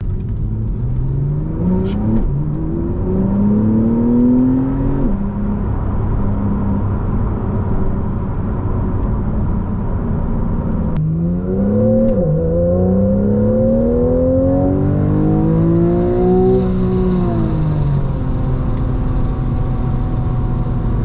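A Porsche 991.1 engine revs up repeatedly, pitch climbing with each throttle push, exhaust burbling steadily and loud throughout.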